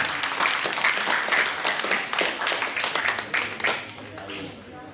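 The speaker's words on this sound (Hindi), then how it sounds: "तालियां तो आपकी आनी चाहिए सबके लिए" An audience at a live event claps and applauds in a sustained, dense burst that tapers off toward the end, with voices mixed in beneath it.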